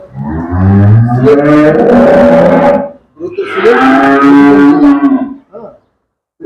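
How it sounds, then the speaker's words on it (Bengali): A dairy cow moos loudly and close by, two long drawn-out calls separated by a short pause, then a brief snort or grunt at the end, with no talking. "এই গাভীটা"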